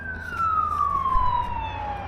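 Ambulance siren in Pahrump, a single wailing tone sweeping slowly downward over low traffic rumble, fairly distant and steady.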